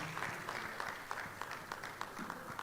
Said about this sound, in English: Shall we give a round of applause for them as they come up stage?